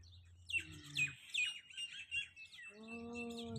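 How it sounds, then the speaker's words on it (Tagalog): Many birds chirping at dusk near villas in Dubai's Emirates Hills, a busy flurry of high tweets and calls close by, followed by a steadier tonal hum underneath. "ang daming ibon"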